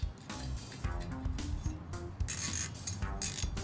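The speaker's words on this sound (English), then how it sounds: "I'm using a cable tie to thread this through." A cable tie is pulled tight while fitting a four-seater bench seat in a Mercedes Sprinter van, giving a run of close, rapid ratcheting clicks in irregular bursts with faint handling noise.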